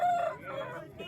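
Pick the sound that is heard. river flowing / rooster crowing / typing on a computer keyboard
rooster crowing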